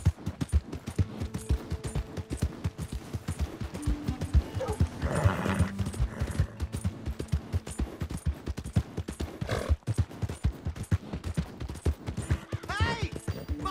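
Rapid rhythmic hoofbeats of a galloping horse pound on continuously in Red Dead Redemption 2, with an occasional whinny and brief voices over the clatter.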